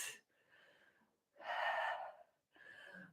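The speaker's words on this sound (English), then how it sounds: "And just take some deep breaths." Deep breathing during a hip flexor lunge stretch in a low-impact cardio Pilates workout: three slow, close breath sounds, a soft one, then a fuller, louder breath, then another, separated by brief pauses, with no talking.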